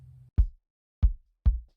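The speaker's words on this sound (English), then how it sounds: "So here's the kick drum." Kick drum track in a song's music production, three punchy low thumps, the last two closer together, each decaying quickly into silence after a brief low tone at the start.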